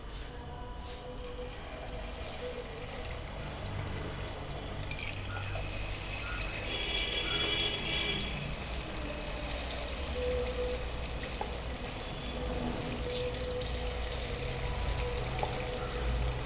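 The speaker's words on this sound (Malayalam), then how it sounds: "അപ്പം ചൂടായ എണ്ണയിലോട്ട് നമുക്ക് കുറേശ്ശെ മാവ് ഒഴിച്ചു കൊടുക്കാം." Unniyappam batter fries in hot oil, a soft, steady sizzle and bubbling that swells slightly as more batter goes in, fairly faint and with no talking.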